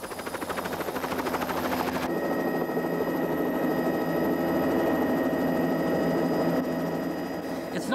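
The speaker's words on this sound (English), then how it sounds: "The chartered helicopter runs a kind of shuttle service around the nearby hills, dropping off one hydrographic team, picking up another." Chartered helicopter shuttling hydrographic survey teams around nearby hills, making repeated landings and takeoffs; its steady, loud rotor and engine drone runs throughout, with a sharp change in tone about two seconds in.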